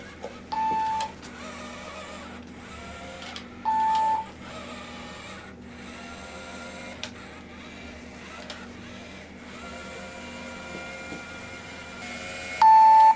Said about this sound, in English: So if I hold it still, motor loads kick in.